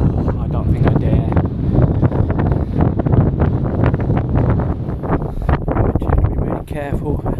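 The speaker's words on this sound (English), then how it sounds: "Windy up here, guys." Strong wind buffets the microphone on a coastal cliff top near Greenan Castle in Ayr, Scotland: a loud, constant low roar with gusty bursts, and someone talks briefly over it.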